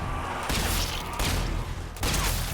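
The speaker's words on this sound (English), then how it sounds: "Each of the guns sound brutal." Guns in the zombie shooter Zombie Army 4 fire in heavy, booming volleys, with three dense bursts in quick succession over a constant loud rumble of game noise.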